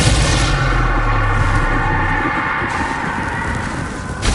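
Bombarda explosion spell in Hogwarts Legacy lands as a loud, deep boom that rolls out into a sustained rumble and fades, with another burst hitting at the very end.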